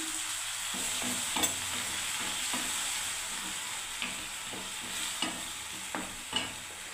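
Two tomatoes' worth of tomato paste, with ginger paste, sizzling in a hot pan: a continuous hiss broken by repeated scraping stirs and a few sharp clinks, no speech.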